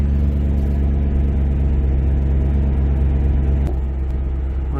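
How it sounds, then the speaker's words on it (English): A 2017 Chevy Camaro with a lean condition runs at a steady, loud, close idle, its deep engine hum holding constant, then dropping slightly after a brief click near the end. "the engine has to start"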